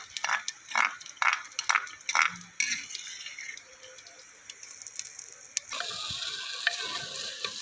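Ginger, garlic and chopped tomatoes hitting a hot pan in a village kitchen, starting with a string of sharp stirring scrapes and clatters, then settling into a steady close sizzle of frying.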